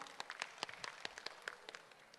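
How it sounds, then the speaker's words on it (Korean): Scattered clapping from a small audience at a citizens' roundtable meeting, a brief, faint burst of separate hand claps with no voices. "박수 부탁드립니다."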